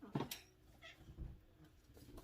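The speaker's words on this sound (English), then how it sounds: "Hi, kitty." A house cat meows briefly in a kitchen, a faint, short cry followed by soft indistinct sounds, heard alone without talk.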